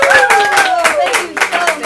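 A live talk-show studio audience claps and cheers loudly, with rhythmic clapping mixed with voices and rising whoops, close and continuous throughout.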